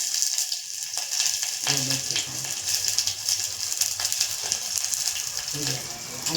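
Onion frying in a pan with a steady, fairly loud sizzle while being stirred, with intermittent scraping and stirring sounds and bits of nearby talk over it.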